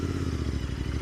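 A Royal Enfield Interceptor 650 motorcycle being ridden, a loud close steady engine drone with a throbbing low rumble and rushing wind noise, no talk.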